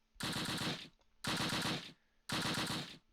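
Machine-gun fire in the Close Combat World War II strategy game: three long, loud sustained bursts of rapid shots, each lasting about half a second to a second, separated by short gaps.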